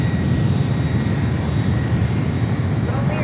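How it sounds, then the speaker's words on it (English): A Boeing 757 jet airliner at San Francisco airport roars with a loud, steady engine drone that fills the whole stretch, a broad continuous rumble close by and unbroken throughout. "757 at 200 heading to Newark."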